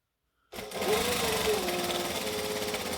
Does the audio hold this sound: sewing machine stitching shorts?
yes